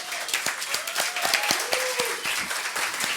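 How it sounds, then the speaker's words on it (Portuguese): Audience applause for students coming onto a stage at a mentoring event, with distinct sharp claps over a steady patter, moderately loud, and a faint voice running through. "Uma salva de palmas para todos eles."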